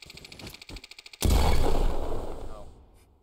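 A gun in the Roblox shooter Bad Business fires a single heavy blast that rings off in a long decaying tail, preceded by a quick run of rhythmic ticking pulses.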